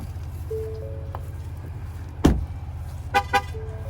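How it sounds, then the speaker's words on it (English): A 2020 Ford Expedition Max parked with its engine running gives short alert chirps outdoors as the key leaves proximity: a sharp burst, then two quick chirps, over steady engine rumble. "The sound you just heard was the car letting you know that the key has left proximity of the vehicle while the engine is"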